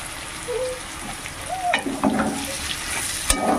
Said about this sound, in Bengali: এবার খুব সুন্দর করে পেঁয়াজ আর পটলকে আমি ভেজে নেব।